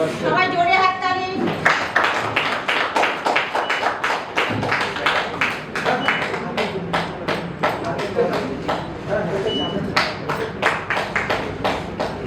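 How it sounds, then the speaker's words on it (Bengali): An audience at a Milan Utsav stage festival claps loudly and steadily for about ten seconds, a dense run of sharp hand claps with a voice speaking over it. "সবাই জোরে হাততালি"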